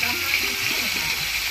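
Amla, Indian gooseberries, sit in hot oil for pickle, producing a loud, steady, close hiss of frying with faint murmuring voices underneath.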